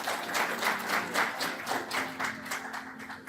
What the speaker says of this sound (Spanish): Quiero pedir un fuerte aplauso para César